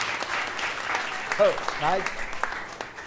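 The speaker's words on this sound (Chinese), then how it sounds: "咱搁一届鼓掌好" A church congregation at a Christmas thanksgiving service applauding, a light spread of clapping that runs under a voice speaking briefly over it.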